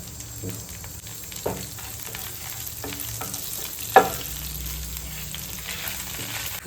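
Garlic and curry leaves frying in oil on a hot pan, a soft continuous sizzle punctuated by occasional stirring clicks and one sharper knock, close and fairly quiet with no talking.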